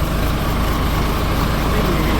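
A tour bus with an Isuzu 6UZ1 engine idles through a straight exhaust pipe with no muffler, giving a steady, fairly quiet low rumble that holds unchanged throughout with no talk.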